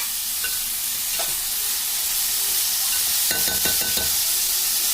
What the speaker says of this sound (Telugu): ఉల్లిపాయ ముక్కలు బాగా ఫ్రై అవ్వాలండి.